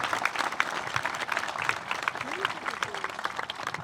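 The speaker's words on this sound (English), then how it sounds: "Can we get one last round of applause for all our award winners?" Steady clapping from a crowd at an 8th grade graduation ceremony, for award winners, fills the whole stretch, dense and sustained, with a few faint voices mixed in.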